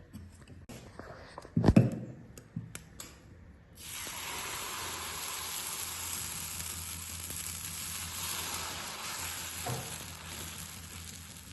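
Dosa batter, mixed with egg yolk, hits a hot pan and breaks into a loud, steady sizzle after a few sharp clatters, the frying hiss holding evenly to the end.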